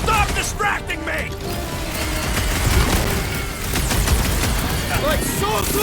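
Rapid gunfire in Guardians of the Galaxy aimed at a junk slug, dense and continuous bursts over game effects and character voices talking throughout.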